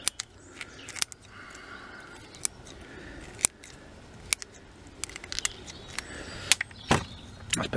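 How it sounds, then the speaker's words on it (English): Scissors snip through a bonsai root beside a cascade-style pot, a string of sharp, close clicks and crunches repeating at uneven intervals over about eight seconds, with small handling rustles between cuts and no talking. "I'm just going to cut this root off because I want this pot to stand a bit more securely"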